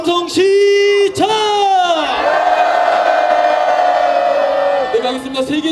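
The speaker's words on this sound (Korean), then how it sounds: "함성 시작!" A crowd at an outdoor candlelight protest rally in Gwangju lets out a loud, sustained collective shout, rising in bursts and then holding one long roar for several seconds before easing off.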